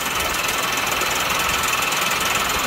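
An off-round wooden blank spins on a lathe while a spinning wheel is made in Madagascar, giving a loud, continuous rapid knocking and rattling hammer-like pulse.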